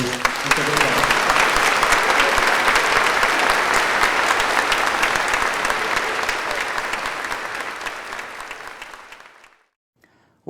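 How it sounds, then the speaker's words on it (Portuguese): A church congregation breaks into sustained, dense applause, loud and steady, then fading toward the end and cutting off abruptly. "Uma salva de palmas a eles."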